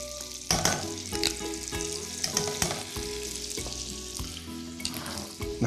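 Garlic frying in a hot pan, a continuous crackling sizzle broken by sharp pops and spatters, close up and fairly quiet, with occasional stirring scrapes.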